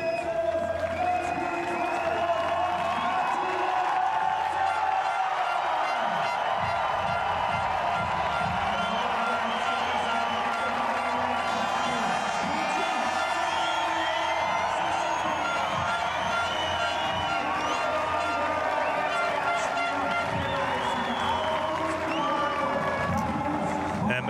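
Outdoor crowd at a Red Bull cliff diving event on the lakeshore at Sisikon, Switzerland, cheering and whooping steadily throughout, with a commentator talking over the noise.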